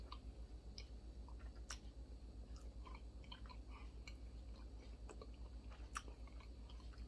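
Soft, close chewing on oxtail fajitas with cheese: quiet wet bites and small crunches come irregularly over a low steady hum, with no talking.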